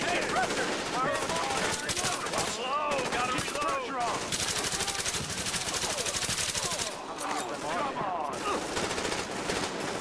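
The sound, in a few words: gunfire in Tom Clancy's The Division video game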